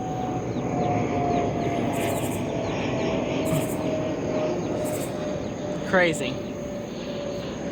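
An airplane rumbles steadily overhead at a backyard chicken setting, a broad continuous drone running beneath a person talking, with a brief bird chirp near the end.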